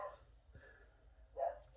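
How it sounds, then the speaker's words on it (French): A dog barks indoors at home: a couple of short, muffled barks separated by a pause, with a louder bark toward the end, moderately near. "J'ai été voir pourquoi Macho il aboyait"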